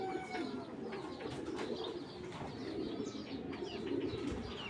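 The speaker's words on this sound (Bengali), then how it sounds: "সাইজটা দেখেন এটা মাটি কবুতর" Pigeons cooing in a racing-pigeon farm loft, several birds giving low continuous coos close by with occasional chirps layered over a steady background murmur.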